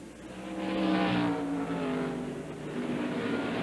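Several NASCAR stock cars roar through the esses at the 1998 Save Mart/Kragen 350 road course race, a steady, moderately distant engine drone with rising and falling pitch as cars pass, no talk over it.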